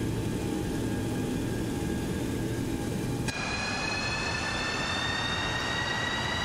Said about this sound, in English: I love the sound of these engines here. These are true turbojets